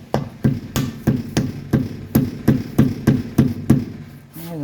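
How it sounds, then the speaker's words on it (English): A rubber mallet taps a grease cap onto the front wheel hub of a 1985 Mercedes 300CD, about a dozen dull, evenly spaced thuds in a steady rhythm, close and fairly loud, with no one speaking. "we tap it down with a rubber mallet"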